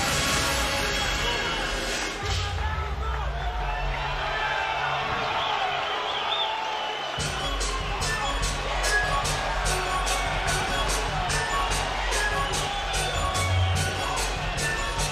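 Arena crowd noise at a boxing event in the theater at Madison Square Garden, a steady roar and cheering under continuous talk from an announcer, with rhythmic clapping or thumping in the latter half.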